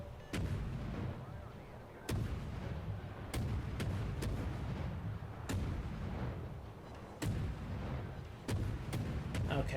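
Naval guns fire in a warship game, sharp booming salvos at irregular intervals over a steady rumbling engine and sea bed, loud and close.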